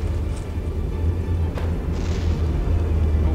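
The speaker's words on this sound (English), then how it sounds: "Oh, big explosion there." A big explosion during a battleship battle in the video game From The Depths, a deep rumbling boom under a constant low drone with a brief sharp crack partway through, no talk.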